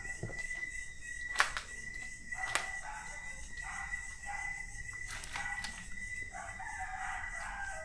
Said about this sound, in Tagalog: Tilaok na yung mga manok guys.